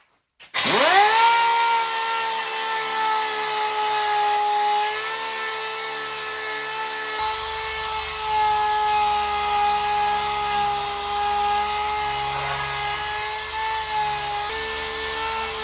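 A power sander runs steadily on the body of a 1995 Jeep Wrangler, spinning up sharply and then holding a loud, sustained whine with shifting load for about fifteen seconds.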